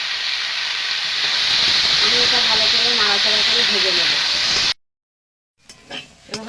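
Beetroot sizzling and hissing steadily as it slowly fries in a hot pan with a voice talking over it, then a sudden silence and a few faint clinks.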